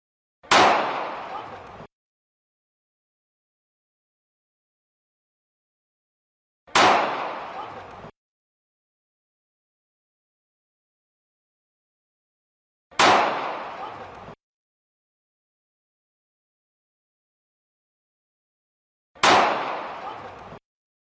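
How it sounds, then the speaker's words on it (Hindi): Gunshots ring out at the Golden Temple: four sharp reports at evenly spaced intervals, each cracking loudly and then decaying over about a second, with dead silence between them. "आप देखिए किस तरह से ये गोली चलती है, गोली की आवाज़ आती है"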